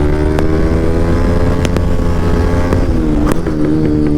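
A motor vehicle driving fast on a road, speed around 80–90, giving a loud, steady engine drone with rushing road and wind noise and a few sharp knocks, close and continuous throughout.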